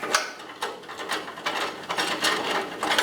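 A ratchet clicks rapidly while unthreading a bolt on a car front coil spring, a close run of crisp mechanical clacks in short uneven bursts.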